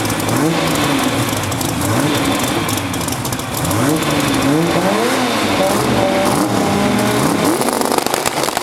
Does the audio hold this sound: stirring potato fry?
no